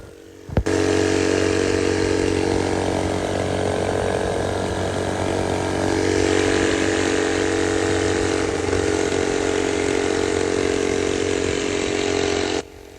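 Mini bike engine, a b200r or bt200x with a tuned setup, on a full-speed run at about 30 mph, loud and steady high-revving drone holding constant for around twelve seconds before cutting off.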